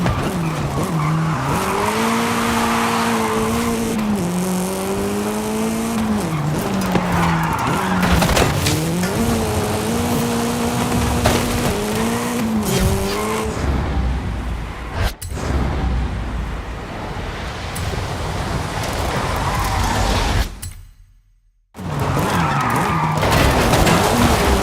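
Monster trucks with giant wheels racing in the Forza Horizon 5 video game, with loud continuous engine roar and squealing, skidding tires, revving up and down before the sound briefly cuts out.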